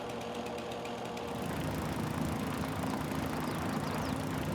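A tractor engine runs in a farming video game as a steady mechanical drone with a rapid rhythmic chug, growing slightly louder and fuller after the first second.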